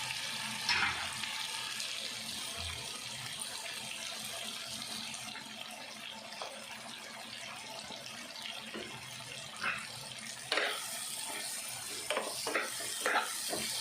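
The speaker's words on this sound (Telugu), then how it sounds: "కారం పొడి ఆయిల్లో బాగా ఫ్రై అవ్వాలండి" Chili powder frying in oil with masala paste for gongura curry, a continuous bright hissing sizzle with occasional crackles and spoon scrapes, fairly close and steady, no voices.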